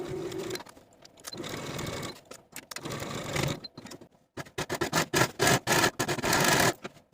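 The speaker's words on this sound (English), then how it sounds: "Sew both side seams with a 1/2 inch seam allowance and then finish your seams." Side seams of a long-sleeved garment are sewn on a sewing machine with a 1/2 inch seam allowance, heard as a series of short, close whirring runs with stops between them, louder toward the end.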